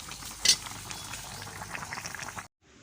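Rice boils in a pot on a stove, with a steady bubbling and watery churn close by, one brief louder splash near the start, and a sudden cut before a quiet tail.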